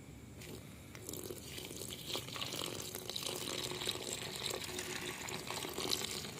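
Rainwater poured into a container for a nitric acid gold recovery from electronic chips, a continuous soft splashing and gushing of liquid, fairly faint and steady.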